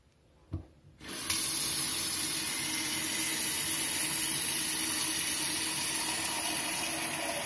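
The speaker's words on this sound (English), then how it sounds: "turn the faucet and the water will go on into my pot, filling it up maybe 1/4 to halfway" After a short clunk of handling, a kitchen faucet is turned on and water pours into a cooking pot, settling into a loud, steady rushing stream that continues unbroken.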